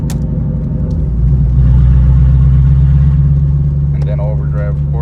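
A Ford Mustang GT with a 4.6 2V V8 and CMS stage 1 cams rumbles loudly from inside the car, a deep steady engine drone that rises slightly as it pulls away, with a voice speaking briefly near the end.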